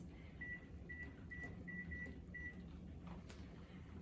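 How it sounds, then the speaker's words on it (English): A kitchen timer being set to 15 minutes gives six short, evenly spaced electronic beeps over about two seconds, faint against a quiet room hum. "I'm going to set a timer here for 15 minutes for us."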